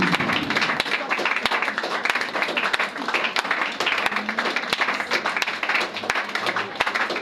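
A congregation at a prayer service applauding together, loud, dense clapping that continues steadily with scattered sharper claps, with faint voices mixed underneath.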